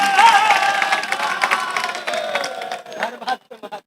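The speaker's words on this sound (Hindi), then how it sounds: "आप अपने लिए एक बार ताली बजा लीजिए।" Comedy show audience in Banaras clapping and cheering as a crowd, loud and dense at first, then thinning into scattered claps that trail off near the end.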